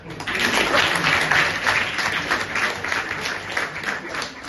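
Student audience clapping at a college seminar in Karnataka: dense, sustained applause from a large room that stays loud throughout and eases slightly near the end, with faint crowd murmur underneath.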